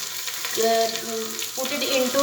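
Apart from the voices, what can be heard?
frying green chili and onion in pan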